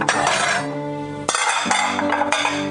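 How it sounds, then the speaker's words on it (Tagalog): Dishes, pots and cooking utensils clatter and clink as they are tidied at a sink, with several sharp knocks and ringing metallic clanks close by. "ayusin ko nga muna sandali itong mga pinaglutuan ni Mona"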